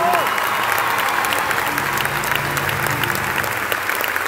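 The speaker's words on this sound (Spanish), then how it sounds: "fuerte aplauso, por favor." Strong audience applause at a peace medal ceremony honoring a Guatemalan artist, a dense continuous wash of clapping from a large crowd, loud and sustained, with some voices and a brief tone underneath.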